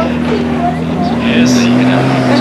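A Rolls-Royce Wraith Black Badge turbocharged car engine at the Goodwood Festival of Speed produces a steady, loud drone with a rising tone, while people talk over it throughout.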